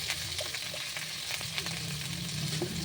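Spices and potatoes sizzle steadily in hot oil for a katla fish and cauliflower curry, with a dense continuous fry hiss and scattered scraping of a spoon against the pan.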